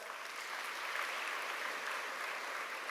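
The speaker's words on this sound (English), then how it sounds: "let us convey our heartfelt thanks to him with your enthusiastic claps" Enthusiastic audience applause fills a hall at a college freshers induction programme, a steady dense wash of many clapping hands held at an even level throughout, with no speech over it.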